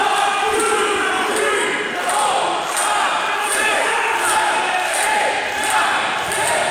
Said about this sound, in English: The people are really responding to Scrotus here.